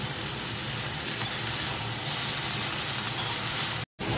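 Bottle gourd stalks and greens sizzle steadily as they are stir-fried in a pan with ground spices and green chilli. The hiss stays constant and close, with a couple of faint utensil taps and no talk.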